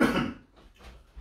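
A single cough in a stuffy church with poor air circulation, a short loud burst at the start that fades into quiet room tone with faint trailing sounds.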